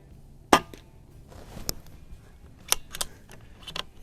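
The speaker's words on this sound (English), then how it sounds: "All that noise you just heard was the hammer dropping." A suppressed Beeman 2027 carbine .177 PCP pellet gun fires at a range, giving one sharp, fairly quiet crack from the hammer dropping, followed by a few fainter clicks and taps.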